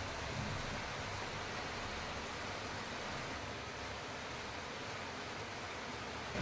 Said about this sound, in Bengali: বাইরের বৃষ্টিটাকে আমি ভালো মতো উপভোগ করে নিচ্ছি